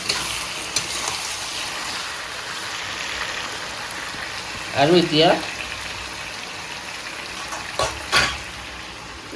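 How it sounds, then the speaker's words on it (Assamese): Goat meat fries with salt in a pan, giving a soft, continuous sizzle and bubbling that runs beneath a few short spoken words from a woman cooking at home. "নিমখ দি লৈ একদম মজাকৈ ভাজি আছোঁ"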